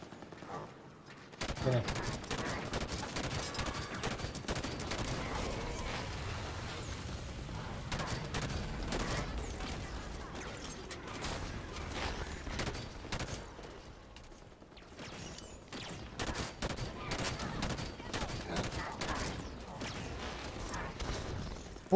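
Sustained gunfire from the video game Halo 5: Guardians, with repeated rapid bursts and automatic fire that stays fairly loud for most of the stretch and eases briefly before resuming, while a voice talks intermittently.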